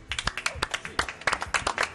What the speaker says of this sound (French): Je vous propose de faire un tonnerre d'applaudissements pour les jumeaux.